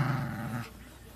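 A dog growls, a low rough rumble lasting over half a second at close range during a tug-of-war game with a bone, then fading into quiet room sound.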